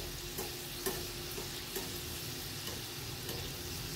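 Modak dumplings fry in hot oil with a steady, crackling sizzle throughout, punctuated by occasional sharper pops and stirring clinks.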